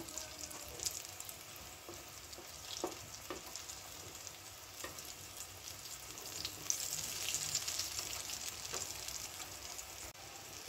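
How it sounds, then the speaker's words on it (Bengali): Ridge gourd dumplings fry in hot oil with a steady sizzle, broken by a few clinks and scrapes of a utensil, with no voices. "এবার এগুলো দু পিট লাল করে ভেজে নেব"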